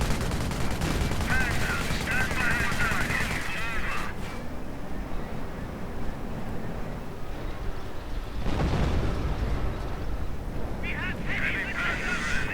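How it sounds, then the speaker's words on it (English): Heavy gunfire pours onto a Panther tank in a WWII real-time strategy game, with dense, continuous shooting and explosions throughout under a caster's ongoing commentary. "Panther taking heavy fire."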